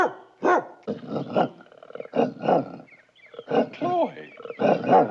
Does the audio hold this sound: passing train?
no